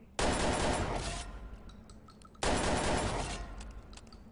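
Two sharp bursts of video game gunfire, each a loud crack trailing off into a rumbling decay, about two seconds apart.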